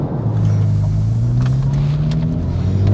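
A silver Porsche 911 997 Carrera 2S with a manual gearbox revs hard, its engine climbing steadily in pitch past 5,000 rpm as a loud, close, continuous rising growl with no talk over it.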